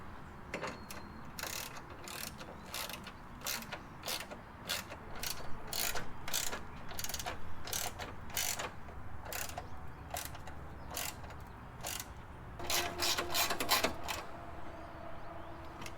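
A ratchet clicks in quick rapid bursts while bolts are tightened during headlight installation on a 2002 Subaru Impreza WRX, close-up metallic ticking repeated in clusters over a quiet background.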